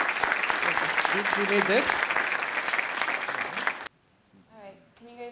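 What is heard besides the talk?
audience applause for speaker Shyama Rose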